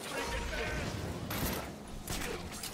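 Bursts of rapid gunfire in a video game, loud dense volleys that come in waves with a mechanical rattle.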